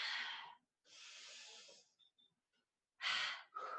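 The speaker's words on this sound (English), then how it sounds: "Big breaths in, big breaths out." Deep breaths during a yoga flow: a long airy inhale, then an exhale, then a quick pair of breaths, all close to the microphone with short pauses between.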